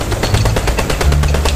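Rapid, continuous automatic gunfire from computer-controlled bots in Fortnite, a loud, steady rattle of closely spaced shots that lasts throughout.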